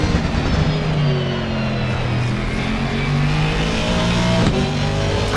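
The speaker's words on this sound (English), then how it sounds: "we'll get on board with Goodway and have a listen to that McLaren as well" A McLaren GT race car in Assetto Corsa Competizione at the Nürburgring, heard from onboard with a loud, continuous engine note that climbs and shifts through revs without a break.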